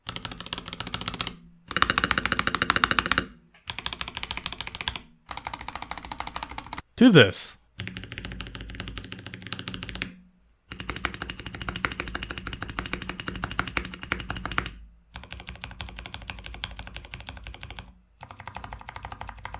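Bursts of rapid clacky typing on a budget mechanical keyboard with lubed plate-mount stabilizers, several stretches broken by short pauses, with one sharp loud clatter midway and speech interspersed.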